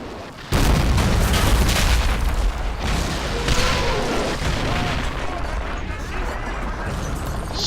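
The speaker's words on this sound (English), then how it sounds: "these guys should just open fire" Continuous gunfire from troops in the Men of War: Assault Squad 2 battle game, a loud dense rolling barrage that starts abruptly and holds steady with booming, crackling volleys throughout.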